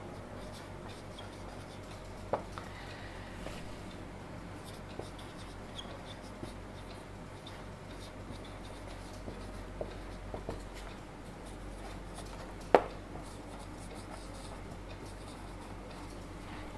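Pen writing on paper during a maths lesson, a faint continuous scratching with occasional light taps, close and quiet over a low background hum.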